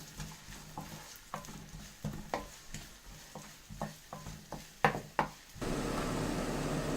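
A spoon scrapes and knocks in a pan about a dozen times in an uneven rhythm, then a steady sizzle of onions sautéing takes over near the end.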